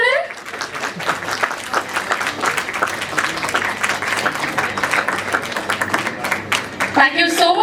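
An audience at a Kannada TV show gives loud, sustained clapping that swells and continues for several seconds, with a voice speaking over it near the start and end.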